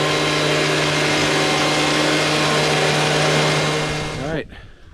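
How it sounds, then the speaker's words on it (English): A leaf blower's motor roars steadily up close while clearing water out of the return ports of a backyard pool, holding a constant pitch for several seconds before the tone dips and winds down abruptly near the end. "here is the leaf blower blowing out the final two ports over there"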